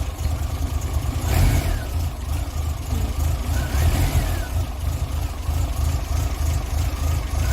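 A Morris Marina 1.8 engine with only 50,000 km from new, revving up loudly as the throttle is pressed, then holding a steady, rough running note close by.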